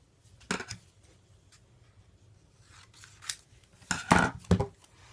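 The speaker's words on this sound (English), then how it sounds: "I'm going to cut some more chevrons in the manner that I showed you." Scissors cutting paper chevrons for a 12 x 12 scrapbook double page: a short snip early on, then a cluster of louder crisp snips toward the end over a quiet background.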